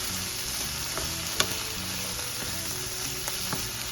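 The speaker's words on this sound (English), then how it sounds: "See how the green beans are starting to fry?" Green beans fry in a pan with a soft, even crackle and a few sharper pops, heard close up over a faint low background.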